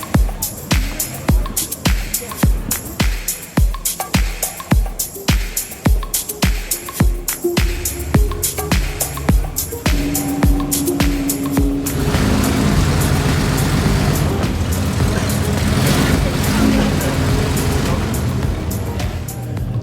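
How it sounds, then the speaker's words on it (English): A Jaguar XJ220 supercar rolls back into the garage at the Goodwood Festival of Speed: a rapid train of sharp mechanical clicks and pops gives way to a loud, rough engine roar, with a voice speaking over it. "The Jaguar XJ220 just making its way back into the garage."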